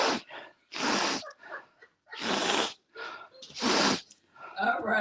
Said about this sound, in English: She's over there on the couch sniffling.